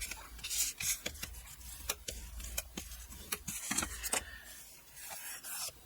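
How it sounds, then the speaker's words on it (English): Paper is burnished down along the edge of a file folder being altered into a journal, giving soft rubbing strokes mixed with light ticks and taps, close and quiet. "Burnish it down."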